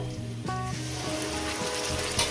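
Spice paste of dried red chilli and tomato sizzles steadily as it hits a hot pan for a rohu fish curry, a continuous near frying hiss with a sharp burst at the start and no talk.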